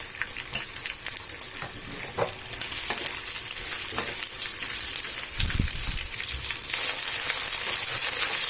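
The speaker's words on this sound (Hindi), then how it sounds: "और भिंडी को फ्राई कर लेना है।" 250 grams of okra fry in oil over a low flame, a constant bright sizzle that swells slightly partway through, punctuated by a few stirring knocks against the pan.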